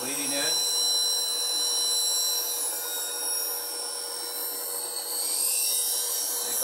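A half-inch D-Way spindle gouge is ground against a sharpening wheel, giving a steady, close, high-pitched grinding hiss that runs unbroken throughout, with a brief low thump near the start.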